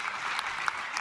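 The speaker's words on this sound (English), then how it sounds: "Give a round of applause to Proxy" Round of applause from the audience at a TwitchCon roast, dense steady clapping filling the room at a constant level with no voices over it.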